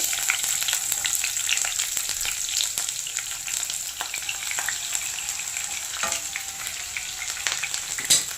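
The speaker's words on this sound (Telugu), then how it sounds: "జీలకర్ర, ఆవాలు వేసుకుందాం. ఉల్లిపాయలు వేసుకుందాం ఫస్ట్." Onions fry with cumin and mustard seeds in a pan, giving a steady close sizzle with occasional stirring scrapes and crackles.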